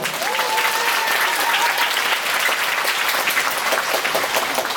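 Loud, sustained applause from a large conference audience, dense clapping that fills the room for several seconds, with a faint voice briefly underneath.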